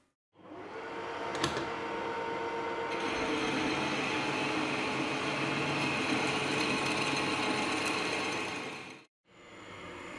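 A shaper milling head cutting metal at reduced speed with increased feed gives a steady, close mechanical whir and grinding hum for several seconds, then stops briefly and restarts.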